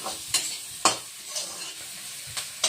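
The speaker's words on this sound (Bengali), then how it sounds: "আর এই যে আলু ভাজতেছি" Potatoes frying in a pan, with a soft sizzle under a few sharp scraping stirs of a spatula spaced irregularly, close and moderately quiet.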